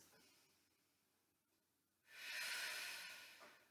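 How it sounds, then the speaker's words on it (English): A person takes a slow deep breath. A quiet, soft stretch is followed by a louder, airy whoosh of breath close to the microphone. "I'm going to take 3 nice big deep breaths"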